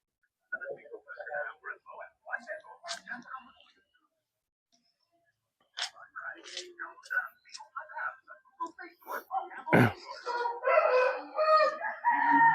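A rooster crows and chickens cluck nearby between bursts of quiet talking, with a loud crow rising late in the clip.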